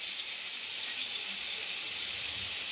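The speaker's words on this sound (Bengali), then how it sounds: "এবার ওই তেলের মধ্যেই কি করব, কালো জিরে দিয়ে দেবো।" Nigella seeds sizzling in hot oil left over from frying prawns, a steady, bright, hissing crackle held at even loudness, close and unbroken, with no talking.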